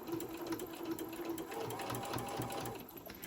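Sewing machine running steadily while stitching a quilted fabric zipper wallet, a close, quiet continuous mechanical whir with a rapid needle pulse throughout, no voices.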